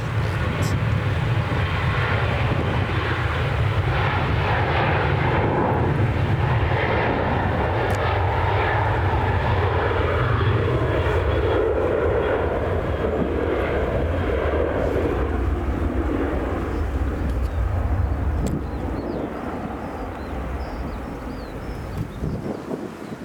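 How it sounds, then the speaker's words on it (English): A Ryanair Boeing 737-8 bound for Venice holds a loud, steady jet roar at Manchester Airport, mixed with wind buffeting on the microphone, then eases slightly near the end. "The Ryanair setting up, going to Venice, and there's a Boeing 737-8."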